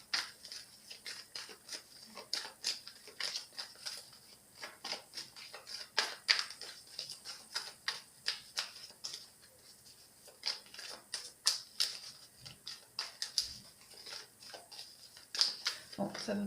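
Tarot cards are shuffled and handled close by in a steady stream of soft riffling clicks and papery flicks, quiet and continuous with small pauses.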